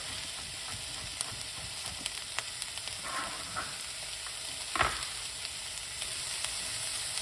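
Peppers fry in a pan with a steady, close sizzle and hiss throughout. A few soft clinks and stirring scrapes break through, and no one talks.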